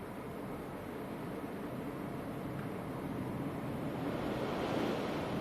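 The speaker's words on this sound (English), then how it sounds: "Fighting the wind." Strong wind roars at Leeds Bradford Airport, a steady broadband buffeting that hits the microphone continuously and swells slightly toward the end, with no talk.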